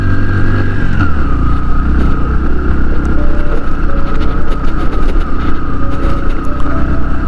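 A Platina 110cc motorcycle idles loud and close on a solo ride in North Sikkim toward Gurudongmar Lake, its engine chugging in a steady continuous drone throughout.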